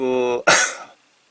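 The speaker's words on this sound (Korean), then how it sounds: "기침 나는데 뭐가 약이죠?" A voice trails off, then a single sharp, harsh cough bursts out close by and fades quickly into silence.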